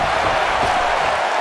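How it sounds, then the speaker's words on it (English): An arena crowd in the WWE 2K19 wrestling game roars in a dense, continuous wash of cheering, loud and steady throughout, with a faint commentator voice underneath. "I don't remember the last time I heard a more passionate crowd than the one we have here tonight"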